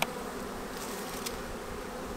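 Honeybees buzz in an open hive during a winter inspection, a faint, steady droning hum with a brief soft tap near the start.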